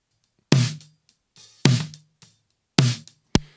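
A snare drum picked up by a Shure 57A top mic hits four times, with three loud, full cracks that ring out briefly and a final sharp, shorter hit, dry and close with faint ghost taps between them.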